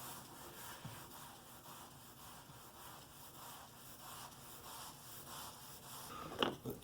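Rubbing cloth or pad over a sealed DIY concrete countertop to clear grout haze gives a steady, close, soft scrubbing that rises and falls in repeated strokes, ending in a few sharper scuffs.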